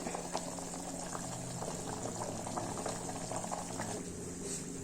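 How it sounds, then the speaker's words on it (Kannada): A pot of okra sambar bubbles steadily, with thick popping blips over a constant low simmer and no voices. "ಚೆನ್ನಾಗಿ ಒಂದು ಐದು ನಿಮಿಷ ಕುದಿಸ್ಬಿಟ್ರೆ ಸಾಂಬಾರು ರೆಡಿ ಆಗುತ್ತೆ"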